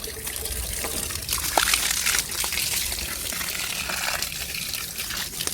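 Water runs and trickles steadily into a household tank at a rural home near Kolhapur, a close, continuous gushing flow with small splashes, and no talking.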